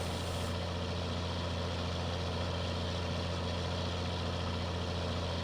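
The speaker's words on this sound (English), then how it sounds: "I love the way this tractor sounds, man." Tractor engine idling in Farming Simulator 19 on the Pacific Northwest map: a steady, unbroken low diesel drone that holds evenly for several seconds with no talk over it.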